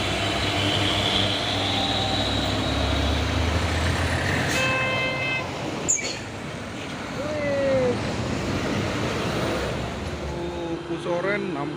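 A Hino truck, a Euro 4 model rated at 220 PS, rumbles nearby amid roadway traffic, its engine droning steadily while short hissing and squealing bursts like air brakes cut in midway.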